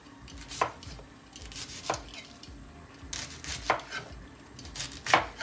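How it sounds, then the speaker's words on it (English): A knife chops cabbage on a cutting board for a Southern cabbage and smoked turkey dish, with sharp, distinct strokes landing irregularly about once a second, close by, and no talking. "And today I'm just cutting it basically however."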